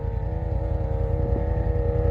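A Hayabusa-engined sand rail powers up a dune hill, its engine a loud, steady droning roar held close throughout, with no voices.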